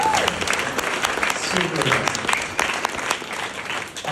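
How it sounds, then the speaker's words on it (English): Wedding reception guests give a round of applause, brisk overlapping claps that swell and then thin out, while someone speaks briefly over them. "round of applause for Raven"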